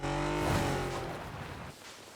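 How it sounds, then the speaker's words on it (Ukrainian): A video game car engine roars close by, revving with a rising whine, then fades and drops off toward the end. "О, машина їде. Чую, чую, чую."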